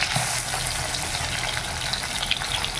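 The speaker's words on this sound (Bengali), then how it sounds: "তেলটা গরম হয়ে গেছে। এবার ইলিশ মাছটা ভেজে নেব" Hilsa fish frying in hot oil, a loud, dense, continuous sizzle heard up close for the whole stretch, without pauses or any talking.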